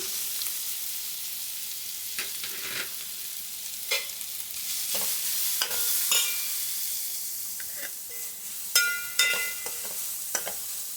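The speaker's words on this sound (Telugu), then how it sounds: "నెయ్యి బాగా హీట్ అయ్యాక దాంట్లో మనం తీసుకున్న క్యారెట్ వేసుకోవాలండి." Carrots sizzle in hot ghee in a village kitchen while a utensil scrapes and stirs them in the pan, a loud continuous frying hiss broken by irregular clinks and scrapes, with no talking.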